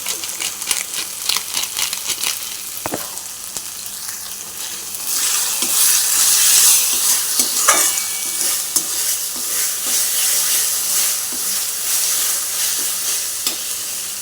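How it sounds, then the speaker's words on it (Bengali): Ground spices with turmeric and Kashmiri chilli fry in a pan for a prawn and taro-stolon dish, with crisp clattering stirs at first, then a louder, steady hiss of sizzling oil that swells midway and carries on, close and without talking. "মশলাটা ভাজা ভাজা হয়ে গেছে দেখো"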